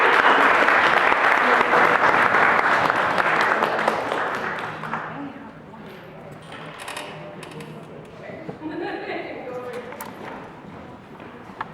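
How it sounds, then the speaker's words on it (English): Audience applause at a community gathering against violence at a Toronto Native centre, loud and dense for the first few seconds, then thinning to scattered claps and murmuring voices. "Get like some applause or something."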